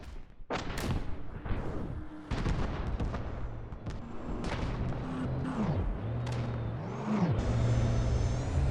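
Video game gunfire: sharp shots and bursts with whooshing sweeps and engine-like whirs, close and loud, ending in a sustained hum.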